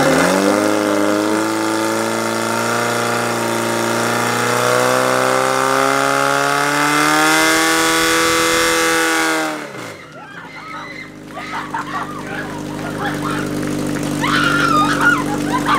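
A firefighting pump engine at a women's fire sport competition drones steadily at high revs, then abruptly cuts off, leaving quieter background chatter and voices.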